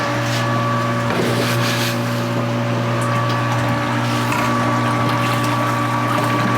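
Pump transferring liquid while preparing a single malt whiskey mash, a loud, steady mechanical drone with a sustained tonal hum throughout.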